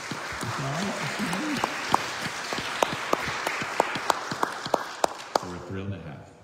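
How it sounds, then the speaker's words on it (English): A church congregation claps together to welcome new members, a bright scattered patter of hands with sharper single claps, while speech carries on over it, then fades. "I think it's appropriate just to welcome them with a round of applause"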